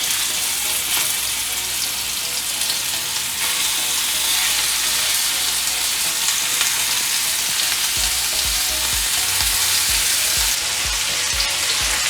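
Minced lamb kebab skewers sizzle loudly in an oiled grill pan, a dense, continuous frying hiss close up with occasional crackles and faint low bumps.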